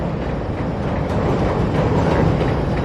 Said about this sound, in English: Nice view of the L train crossing the Chicago River